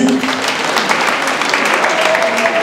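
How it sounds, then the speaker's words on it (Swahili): A church congregation claps for a student being awarded, dense sustained applause from a crowd filling the room, loud and even for a few seconds. "Pigie makofi."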